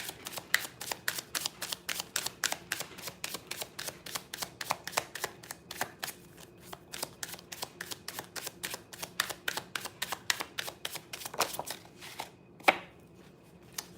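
Tarot cards being shuffled during a live reading, a long fast run of crisp, close riffling snaps repeating at an even rhythm with no voice, ending in a few sharper clacks.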